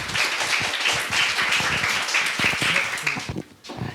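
An audience at a university carbon-neutrality forum clapping to welcome a professor, with lively, close applause that trails off into quiet near the end.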